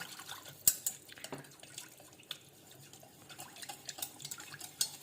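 Custard powder stirred into cold milk in a bowl: light wet swishing with scattered spoon clinks against the sides, close and fairly quiet, with no talking.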